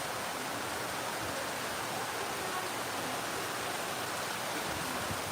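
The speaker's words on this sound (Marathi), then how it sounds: "आवाज येत असेल मुसळधार पाऊस आहे" Heavy monsoon rain pours down in a rural village, a dense, even hiss that holds steady and unbroken, with no voices.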